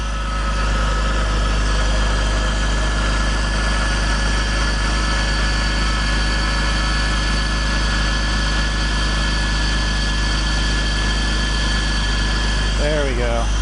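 A BMW E46 idles with a steady low drone while its power steering is turned lock to lock, the pump adding a faint constant whine, all close and unbroken until a brief squeak near the end.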